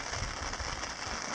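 Steady rain patters on a tent at a lake campsite in the Boundary Waters wilderness in August, a dense close hiss with soft low drumming from drops hitting the fabric, continuous and alone.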